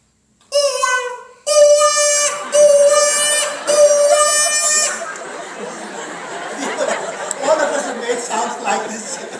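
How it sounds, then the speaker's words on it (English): A short drinking-straw whistle gives several shrill, high-pitched blasts, the first brief and the next few longer, before an audience breaks into chatter and laughter. "with the shorter straw, which is this, you get a very, very high pitch."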